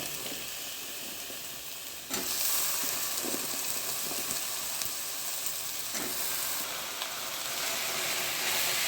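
Finely chopped raw jackfruit drops into hot oil tempering in a pan, setting off a steady loud sizzle that surges when the pieces go in and again when stirred, close and continuous without speech.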